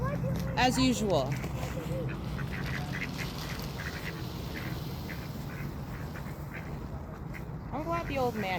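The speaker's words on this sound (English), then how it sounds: "Lovely ducks." Ducks quack near a pond or lake while birdseed is poured out for them, brief bursts at the start and end over steady low outdoor rumble, with people talking throughout.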